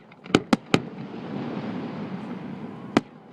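Fireworks bursting at a distance, three sharp cracks in quick succession and a fourth a moment later over a steady wind-like rumble.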